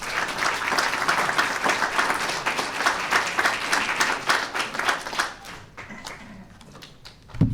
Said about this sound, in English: Would you go crazy and clap your hands for my Alderman Sophia King.